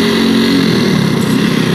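Motorcycle engine running steadily while riding on a road in Purbalingga, a loud continuous drone with harmonic hum and wind, no talk over it.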